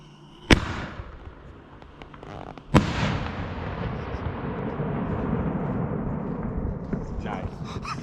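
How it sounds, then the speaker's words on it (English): A snowball-style ball shell firework thumps sharply as it launches, then a second loud boom bursts overhead, followed by a long crackling, rumbling tail that fades slowly outdoors, with people talking faintly during the show. "First up's the ball shell, king shell."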